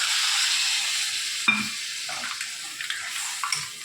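Water goes into a hot pan of fish heads cooking for Bengali muri ghonto, with a loud, steady close sizzle and one brief clatter partway through.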